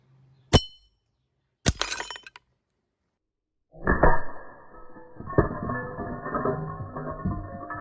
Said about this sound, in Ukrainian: Спробуємо розбити скляну пляшку кулями озетай